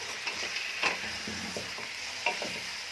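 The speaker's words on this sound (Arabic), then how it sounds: "ونقلب كده بقى ايه عشان تتشرب من الخضروات الجميله دي" Pig trotters tossed with vegetables in a pot, a close, continuous scraping stir with several distinct clacks of the spoon against the pot, no voices.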